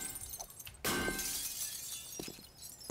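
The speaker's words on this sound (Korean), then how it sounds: "어, 창문 막 깨지는 소리 나는데?" A window shatters in the zombie survival game 7 Days to Die with a sudden loud crash of breaking glass that rings and scatters for over a second, with faint scraping before and after.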